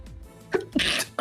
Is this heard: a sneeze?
yes